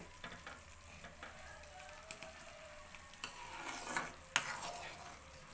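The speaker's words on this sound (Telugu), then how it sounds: "ఇలా మరుగుతూ ఉంది చూడండి ఎల్లోగా అయితే మారింది" Butter simmering down into ghee crackles with a soft, steady sizzle, scattered pops rising toward a sharp spat near the end, faint and close with no talk.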